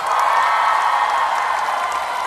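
Crowd applause at an outdoor rose garden concert during a rose festival in Gokseong, steady dense clapping with a faint cheer mixed in, loud and continuous throughout.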